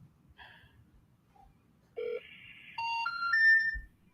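A telephone sounds during a phone call, with short tones and dialing-like beeps followed by a louder sustained ringing tone that rises in pitch, heard alone over a faint background.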